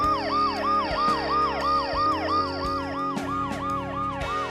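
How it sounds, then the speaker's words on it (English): A loud ambulance siren from the adventure game Dead Synchronicity wails in fast repeating up-and-down sweeps, layered over steady sustained tones and sharp clicks, close and dominant throughout with no voices. "In spite of the noise I made breaking the glass and the ambulance's deafening siren, little Colin seems to be asleep or in a trance"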